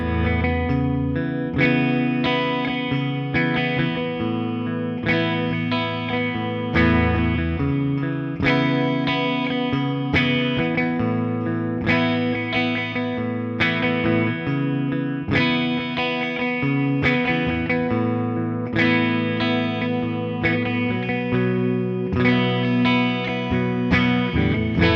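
An Epiphone Dave Grohl DG-335 electric guitar played through an amp modeler, with a distorted, effects-laden tone, strums chords in a steady repeating rhythm, loud and unaccompanied by speech.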